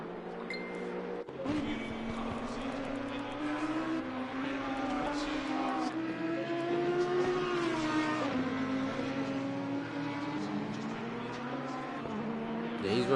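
A Ferrari GT3 race car at Zolder in a racing game, its engine note rising and falling through gear changes and revs, steady and prominent with a voice talking over it.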